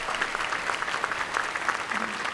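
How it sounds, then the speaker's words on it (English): An audience at a university nursing school graduation ceremony applauds, with dense, steady clapping that carries on evenly throughout. "President Ryan, clapping for you."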